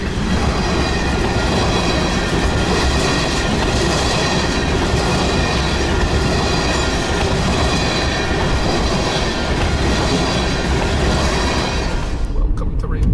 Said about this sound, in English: we're stuck by the oil train.